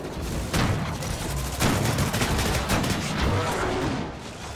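Rapid, sustained gunfire and bursts of shots fill a Disintegration video game cutscene, loud and dense with heavy low rumble throughout, continuing without pause and with no voices.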